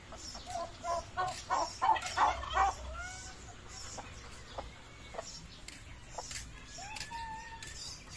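Turkeys gobble in a burst of repeated cries, followed by scattered fowl sounds and occasional chirps over a quiet farmyard background.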